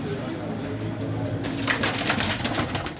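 Kasuri pigeons, including a golden female, coo in a loft, low rolling coos under a close rustle, joined midway by a sudden burst of fluttering or scraping activity.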